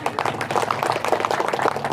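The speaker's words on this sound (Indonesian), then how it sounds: "Tepuk tangan dulu." An audience claps together throughout a religious lecture gathering in Indonesia, a dense, steady wash of hands that stays fairly loud for the whole two seconds.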